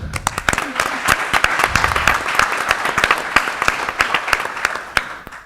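Audience applause at a town candidate forum: a room of people clapping steadily with sharp, dense hand claps, close and lively, tapering off at the end.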